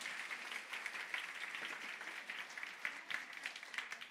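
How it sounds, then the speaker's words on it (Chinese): A church congregation claps hands together in blessing during a Sunday sacrament worship service, a faint, continuous patter of many hands that holds steady for a few seconds from a distance. "请我们再拍手来祝福他们哦"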